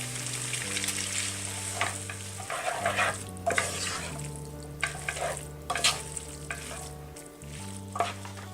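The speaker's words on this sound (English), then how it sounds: "Once it's mixed well, we're going to add in our noodles." Noodles are tossed in garlic sauce in a pan, a continuous soft sizzle beneath repeated scraping and stirring clatters, close and fairly quiet over a steady background hum, no voices.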